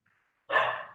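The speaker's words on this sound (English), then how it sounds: "And that's our dog agreeing, if you guys heard the barking." A dog gives one single, sharp bark, fairly loud and close, that rings briefly after a moment of near silence.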